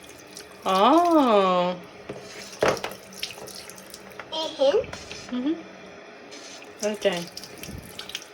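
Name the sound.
tap water running while rinsing hands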